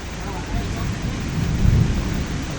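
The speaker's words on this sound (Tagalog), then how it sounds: "Sobrang lakas ng ulan." Very heavy rain pours down during a storm with strong wind in Clark, Pampanga, a loud steady roar with deep thunder rumbling underneath throughout.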